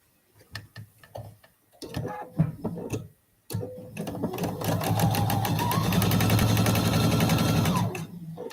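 A sewing machine joins quilt block pieces, starting with a few short clicking bursts and then running in one steady, loud, continuous whir, close and with no talking.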